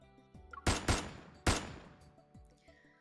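Gunfire in the Love and Deepspace video game: a loud burst of two close shots followed by a third, each with a long reverberant decay, over faint background music.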